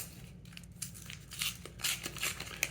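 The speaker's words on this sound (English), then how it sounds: "paper packs are like the easiest things on the planet to open up" Paper trading card booster pack for a collectible card game being torn open by hand, a quiet crinkling rip with several short tearing bursts and a crisp snap near the end, close up.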